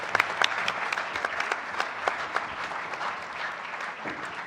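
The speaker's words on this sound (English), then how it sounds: "Let's give these guys one more round of applause." An audience at a school board of trustees meeting claps in a dense, sustained round of applause that fills the room evenly for the whole stretch.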